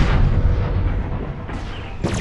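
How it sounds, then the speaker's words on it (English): A large laser weapon firing at a target in MechWarrior Online, a heavy booming blast with a rumbling decay, followed by a sharper second shot near the end, loud and close with no talk. "Medium lasers are no damn good at that range, but your large laser will do the trick."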